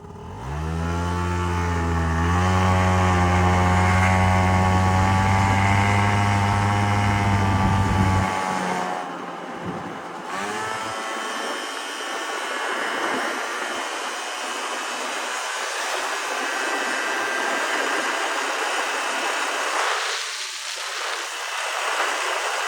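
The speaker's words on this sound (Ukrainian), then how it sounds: "Давайте з нуля попробуємо." Yamaha Jog SA16 scooter pulls away from a standstill, its small two-stroke engine climbing in a strong, rising drone for several seconds before dropping back to a steady lower running note as it rides off.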